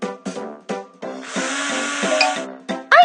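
A cartoon screwdriver unscrews a toy ladybug in a kids' doctor game: a few short clicks, then a steady whirring buzz for about a second, ending in a bright chime.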